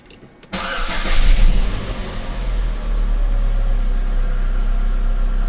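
An Opel Vectra C engine cranks and catches after a brief quiet start, then rises to a loud rev before settling into a steady close idle.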